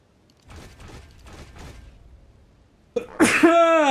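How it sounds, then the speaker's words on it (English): One sharp, loud sneeze bursts out near the end after a few seconds of faint, quiet rustling. "That was a sneeze."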